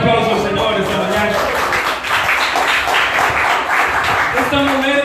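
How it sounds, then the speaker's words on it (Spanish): A church congregation applauding during a sermon, a sustained wash of clapping from many hands with voices mixed in. "Den un aplauso al Señor esta mañana"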